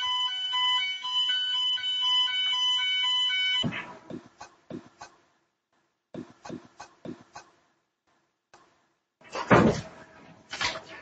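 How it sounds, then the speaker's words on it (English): A loud, continuous electronic fire alarm rings for a few seconds in a lecture room, then stops, followed by scattered knocks and clunks like doors and movement. "we have fire alarm here"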